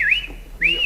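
A person whistles two close, clear swooping phrases, each rising and falling, with a short pause between them.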